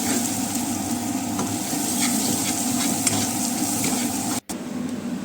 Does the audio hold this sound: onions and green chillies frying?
yes